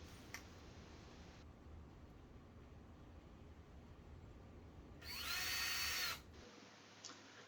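A power drill drives screws into a wooden garden bridge outdoors, a steady broadband whir through most of the stretch that rises into one loud, high-pitched burst of about a second near the end.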